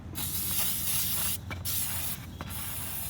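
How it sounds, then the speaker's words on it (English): Cleaner is sprayed from a spray bottle onto a boat flame arrester in steady hissing bursts, with two short pauses between pulls of the trigger, close and fairly loud. "So I'm going to go through both these, spray it a couple of times, let them sit"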